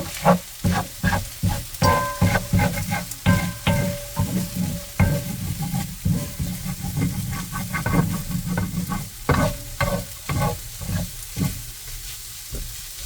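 Kimchi fried rice being stirred in a pan, with repeated scraping and clattering strokes of the utensil over a steady low sizzle, close and fairly loud, with no talking.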